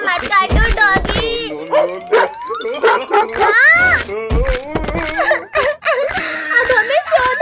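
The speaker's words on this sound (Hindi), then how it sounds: "डॉगी भाई प्लीज हमें मत काटना, वरना हमें 14 इंजेक्शन लगेंगे।" A dog barking and yipping in a loud, busy outdoor comedy scene, the barks mixed with excited shouting and overlapping talk throughout.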